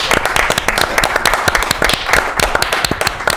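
A theatre audience applauds: dense, rapid clapping from many hands, loud and sustained throughout.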